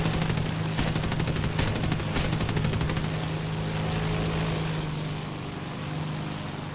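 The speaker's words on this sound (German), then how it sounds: "66 Schuss noch mit der 20mm Kanone." Rapid bursts of 20mm aircraft cannon fire from the War Thunder video game on PS4 rattle over a constant droning engine, with a few sharp volleys in the first half before the engine hum carries on alone.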